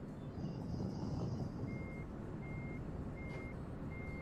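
A semi truck's reversing alarm in Euro Truck Simulator 2 gives a series of evenly spaced electronic beeps over a low engine rumble, with a brief air brake hiss near the start.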